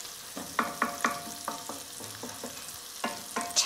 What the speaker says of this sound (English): I'm just adding my onions, sizzling away.